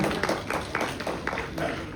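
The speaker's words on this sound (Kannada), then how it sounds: "ಹಾಗಾಗಿ ಇಡೀ ಸಿನಿಮಾ ತಂಡಕ್ಕೆ ಜೋರು ಚಪ್ಪಾಳೆ ಮುಖೇನ ನಾವೆಲ್ಲರೂ ಕೂಡ ಅಭಿನಂದಿಸೋಣ." Audience at a Kannada film's 25-day celebration event clapping for the film team, a short burst of rhythmic applause from a small crowd, fairly close.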